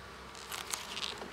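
Honeybees from a small, weak colony buzz briefly up close, a few quick passes over quiet background.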